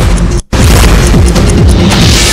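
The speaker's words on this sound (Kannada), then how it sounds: "ಅಕ್ರಮವಾಗಿ ಶೇಖರಣೆ ಮಾಡಿದಂತ ಪಟಾಕಿ ಅಂಗಡಿ ಹೊತ್ತಿ ಉರಿದಿದೆ." A shop of illegally stored firecrackers in Medarahalli, Bengaluru, burns while the fireworks go off. A dense, loud roar of booming bursts and crackling fills the scene, briefly cutting out for an instant before resuming.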